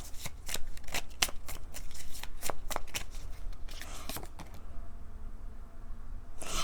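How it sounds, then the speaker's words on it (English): A deck of tarot cards is shuffled in a run of quick, crisp riffles and snaps close by, then settles into quieter handling. "I'm going to pull another card from a different deck."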